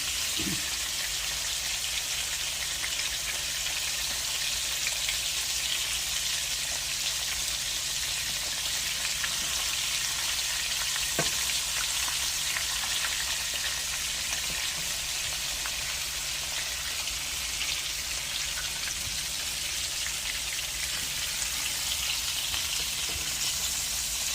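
Ground meat with jalapeños frying in a skillet gives a steady, close sizzle that holds for the whole stretch, with a single sharp tick near the middle and no talking.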